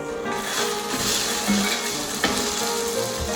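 A salmon burger sizzles steadily in a hot pan as it is flipped, with a continuous close frying hiss and a light scrape of the utensil.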